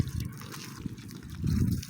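Water trickles and splashes steadily during manual watering of grape plants, a close continuous pour that swells louder near the end.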